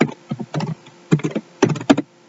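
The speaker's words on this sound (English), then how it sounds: "if we were to type in CSVOL into the terminal" Keystrokes on a computer keyboard, typed into a command-line terminal, come in several quick bursts of close, crisp clicks separated by brief pauses, ending in near silence.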